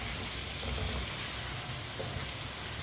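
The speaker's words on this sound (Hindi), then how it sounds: "आलूओं को भी 2 मिनट के लिए पका लेते हैं चम्मच चलाते हुए।" Potato pieces, cut large, fry and sizzle steadily in a pan for an aloo gobhi dish, stirred with a spoon; a constant close hiss with faint scraping, no talking.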